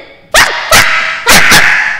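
A person imitating a puppy barking, giving four sharp, loud yapping barks in quick succession, the last two close together, heard alone.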